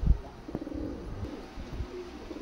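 Kamagar pigeons of a Pakistani line coo softly in low, rolling murmurs, with a few soft knocks and rustles close by and no talking.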